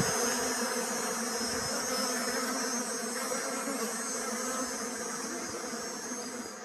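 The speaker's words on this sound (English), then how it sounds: "just to show you some bee activity" Honey bees buzz steadily around hives being loaded onto a vintage truck before harvest, a dense, continuous swarm drone that fills the air evenly throughout, fairly loud and close, with no talk.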